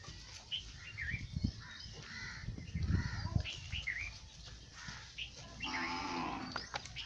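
A Sahiwal cow at a farm in Pakistan lows several times in short, moderately close calls, with birds cawing and chirping around it in the open air.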